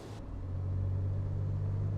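A 2018 Toyota 4Runner with newly replaced brakes on a test drive, its engine and road noise forming a steady, low, continuous rumble that swells slightly, with no talking.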